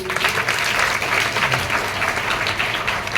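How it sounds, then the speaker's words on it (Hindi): An audience at a school event breaks into loud, steady applause, a dense wash of many hands clapping throughout with no voices standing out. "चलो जोरदार ताली आपके लिए"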